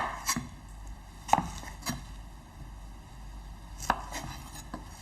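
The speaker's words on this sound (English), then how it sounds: "I'm just simply cut these into slices like so" A knife slices through peaches on a cutting board for caramelized peaches, giving several sharp, close taps of the blade hitting the board, spaced irregularly over a faint room background.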